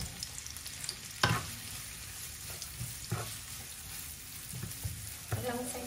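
Onion sizzles steadily in a hot pan for bangus tofu sisig, with occasional sharp clatters of stirring over the constant frying hiss.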